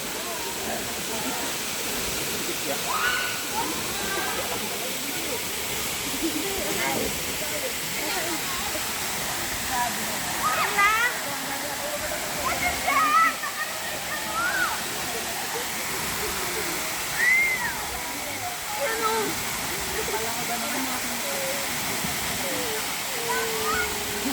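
Kabigan Falls in Pagudpud, Ilocos Norte, a waterfall roaring as a steady broadband rush, with faint voices and brief calls rising over the water now and then.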